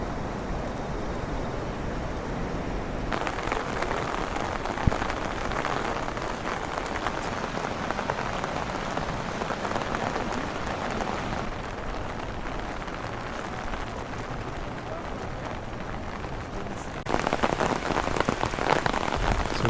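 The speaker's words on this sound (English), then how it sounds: "Some intense rain at the Obon festival." Heavy rain pours steadily on surfaces at an Obon festival in Kyoto, a dense continuous hiss that swells slightly louder near the end.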